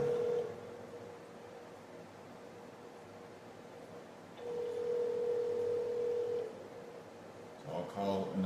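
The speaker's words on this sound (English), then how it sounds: "So they're not picking up the phone right now." A telephone ringback tone sounds in two long, steady tones separated by a gap, with faint line hiss and rustling around it, and the call goes unanswered.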